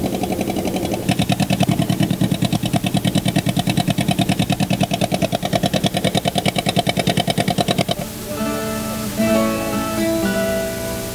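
A motor launch on a river in northeastern Brazil, in 1989, carries passengers toward a Xocó village. Its engine chugs steadily and loudly for about eight seconds, then gives way to a softer, more tonal sound.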